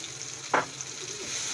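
Ground coriander, turmeric, cumin and paprika frying and being stirred in a pan for a chickpea curry: a low, steady sizzle with one short scraping stir, close and quiet, with no talking.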